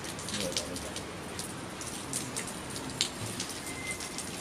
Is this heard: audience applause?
no